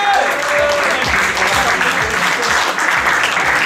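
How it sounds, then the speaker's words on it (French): A crowd at a casino anniversary celebration applauds hosts, actors and singers, a loud, sustained, dense clapping that carries on evenly throughout. "chanteurs, on peut les applaudir."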